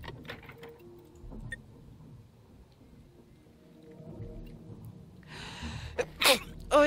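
A single close, sharp sneeze bursts out near the end after quieter shuffling and faint movement sounds, followed by a short loud breath.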